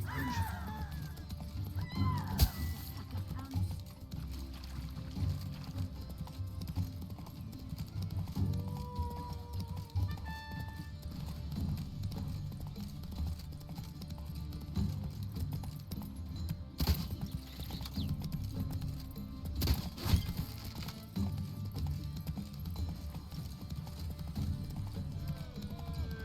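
Geralt's horse Roach galloping in The Witcher 3, a steady run of hoofbeats clip-clopping under continuous game ambience and music, with a few brief louder accents.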